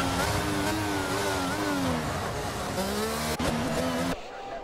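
Race cars in a video game rolling into the pits, a loud, steady engine drone with shifting pitch and sweeping revs that cuts off abruptly near the end.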